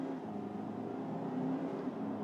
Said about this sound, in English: if I floor the car